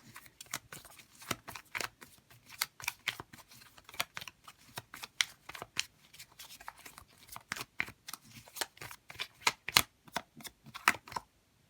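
Tarot cards are shuffled for a card reading, giving a steady run of crisp, fluttering riffles and soft slaps that repeat at close range with no talking over them.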